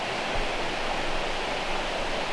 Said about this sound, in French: nous arrivons à la cascade du Grand Bleu